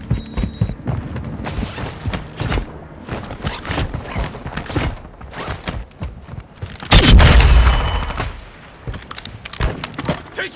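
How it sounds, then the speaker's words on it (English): Gunfire in the Warzone battle royale game: clusters of sharp shots and mechanical clanks, with a heavy booming burst midway, all fairly loud and close. "Taking effective fire!"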